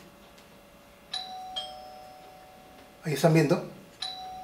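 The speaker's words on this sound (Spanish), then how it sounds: "presionan el botón por única vez y se activa el timbre." A doorbell triggered by a smart switch button chimes several times, bright ding tones spaced apart, with someone briefly speaking between the rings.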